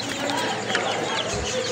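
A flock of 45-day-old Sonali chickens clucking and chattering together, a busy, continuous murmur of overlapping bird calls close by.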